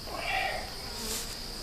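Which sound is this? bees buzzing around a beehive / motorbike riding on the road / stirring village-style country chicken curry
bees buzzing around a beehive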